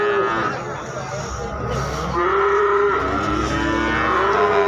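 Cattle, including young bull calves for rearing, low and moo at the Kuranggareng cattle market in Magetan amid a dense, loud crowd hubbub and nearby talk.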